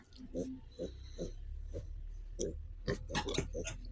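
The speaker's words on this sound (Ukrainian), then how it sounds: "Поросята. Пасемось, да?" Piglets grunt in short, snuffling bursts close by, with soft breathy noises and a low steady background rumble; a few sharper squeaky grunts near the end.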